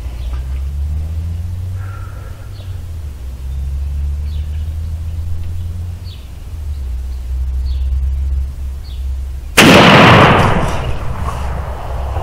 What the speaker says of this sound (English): Oh, you held the gun better that time.